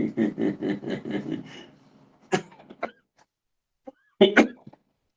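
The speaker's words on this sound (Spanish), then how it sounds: "Por burlón también me puse a toser." A few short, sharp coughs in a quiet room, following a stretch of rhythmic voiced bursts, with a brief cluster of coughs near the end.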